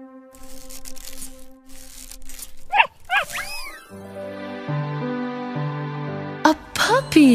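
A cartoon puppy gives short, high yips in two quick clusters, with light melodic music playing between them.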